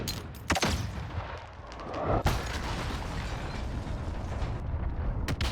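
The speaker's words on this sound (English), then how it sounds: "Enemy cruise missile incoming." In Call of Duty, an incoming cruise missile detonates: a heavy, rumbling blast roar with sharp cracking bursts mixed into a continuous din of explosions and gunfire, loud and dense without speech.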